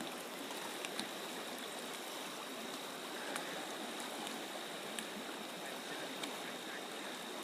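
The Bighorn River flows in a soft, steady broadband rush, heard at a moderate distance and fairly faint, with a few tiny clicks over the continuous water.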